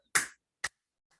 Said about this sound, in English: let's spread your fingers wide and clap